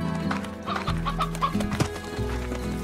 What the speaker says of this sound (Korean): 아까 늙은 수탉 또 있었는데?